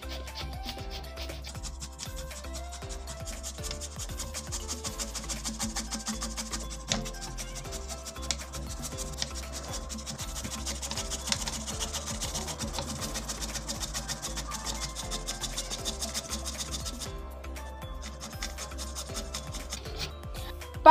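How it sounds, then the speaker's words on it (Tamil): Peeled radish grated by hand, a steady run of close rasping and rubbing strokes continuing for the whole stretch at an even, moderate level, with no voices. "இப்போ நம்ம இதை துருவி எடுத்துடலாம்."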